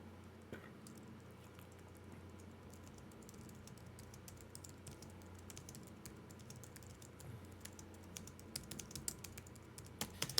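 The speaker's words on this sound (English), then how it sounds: "I'm typing over here and it's boring" Steady typing on a computer keyboard: a fast, continuous run of quiet clicks and taps with no voices, growing slightly busier toward the end.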